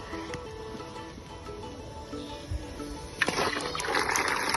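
A ragi flour mixture is poured into a pot of boiling water, with soft bubbling and liquid sloshing that swells into a louder splashing pour near the end.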